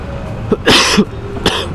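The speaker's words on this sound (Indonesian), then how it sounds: "Aduh, saya batuk" A few close, loud coughs in quick succession, harsh and throaty, with a brief gap before the last one.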